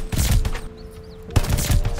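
Gunfire from a silenced weapon in a multiplayer shooter game, bursts of rapid shots in two loud clusters separated by a brief quiet gap, close and punchy without talking.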